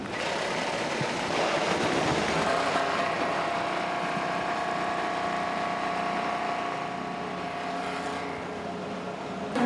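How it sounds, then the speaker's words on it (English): IndyCar race cars at Mid-Ohio firing up and idling together, a loud, steady engine drone that holds for several seconds without pause, no talking over it. "Drivers, start your engines."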